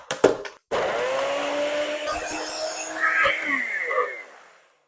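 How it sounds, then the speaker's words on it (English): A blender whirs loudly as it purees watermelon and strawberries into a slushie, a steady motor drone with shifting pitch, preceded by a few sharp knocks, then winding down to silence. "Yeah, I get crazy with the blender."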